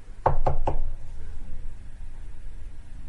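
Three quick knocks on a door, sharp and close, followed by a low ambient hush with no talk.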